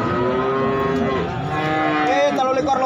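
Simmental cattle at a livestock market give a loud, sustained moo lasting nearly three seconds, close by, with faint background voices.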